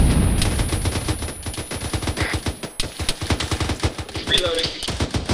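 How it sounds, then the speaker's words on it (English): Rapid automatic gunfire rattles out in ARMA 3 as shooters fire on a vehicle's tires, dense bursts of close, sharp shots in quick succession continuing throughout. "We have 2 Euros coming up, shooting out the driver's tires."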